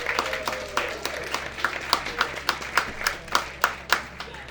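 An audience at a StorySLAM live storytelling event applauds the judges, a crowd of clapping hands with rhythmic, increasingly distinct individual claps as the applause thins out, some faint talk underneath.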